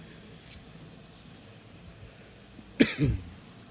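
A single loud cough bursts out near the mic after a quiet stretch, with a brief trailing rasp.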